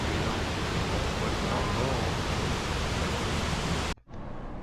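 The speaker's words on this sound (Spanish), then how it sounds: "Aquí se ven un poco mejor las cascadas de agua que bajan por la montaña." Steady, loud rushing of waterfalls cascading down a mossy mountainside in a river-cut canyon, a dense continuous roar that cuts out abruptly near the end before resuming more faintly.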